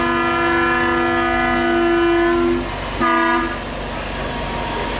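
A small zoo train sounds its horn in a loud, steady blast of about two and a half seconds, then gives a shorter blast after a brief gap, over a rumbling background.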